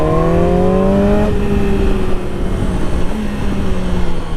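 Yamaha R6 sport motorcycle engine revving nearby, a loud high-pitched whine that climbs and then settles into a steadier, slightly falling drone, with a second rev swelling later over the street noise.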